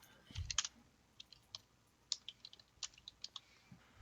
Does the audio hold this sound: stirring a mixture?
no